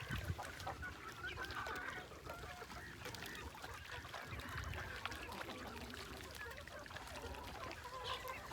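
Geese and ducks honk and cluck steadily across the whole stretch, with a busy, continuous farmyard chatter at moderate distance and no talking.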